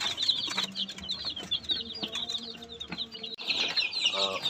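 Chicks cluck and peep in a busy, steady chatter, close by, with a few soft wing flutters.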